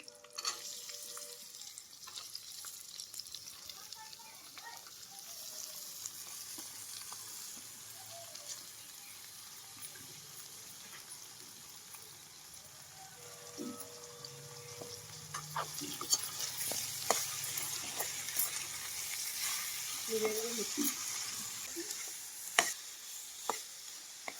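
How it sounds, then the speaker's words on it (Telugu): Green chillies and ivy gourd pieces fry softly in a pan, a low steady sizzle that grows busier toward the end, broken by occasional light clicks of a stirring spoon. "పచ్చిమిరకాయలు అయితే వేసుకొని ఇప్పుడు నేను దొండకాయ ముక్కలు అయితే వేసేసుకుంటున్నాను."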